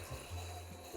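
Water runs into a bowl being rinsed out in a home kitchen while yam and kontomire are prepared, a brief steady stream with a low hollow tone, fairly faint.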